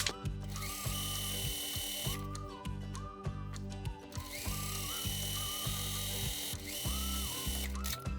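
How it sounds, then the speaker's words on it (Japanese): A sewing machine stitches a skirt hem close by, running in short, rapid mechanical bursts of whirring and clicking separated by brief pauses, with no talking. "そこは開いてミシンで縫っていってください。"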